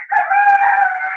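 A Polish cockerel crows among Chinese silkie chickens, a single sustained call lasting the whole moment, loud and close with no talk over it.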